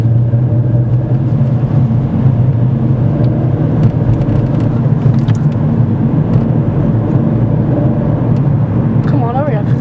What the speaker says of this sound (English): We're going to rate your driving on this dual carriageway.